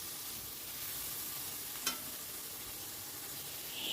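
Food sizzles in a pan over a medium-to-high gas flame while being stirred constantly. A soft, steady frying hiss runs throughout, with one brief scrape of the spoon partway through.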